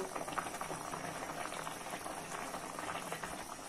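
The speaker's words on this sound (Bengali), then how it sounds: "কি সুন্দর বলক চলে এসেছে" Fish curry with flat beans, potato and tomato boils in a pot, bubbling steadily and continuously at close range with no voices.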